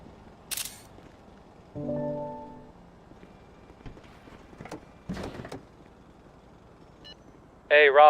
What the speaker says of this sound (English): I'm just gonna snap a photo and then we're good to take it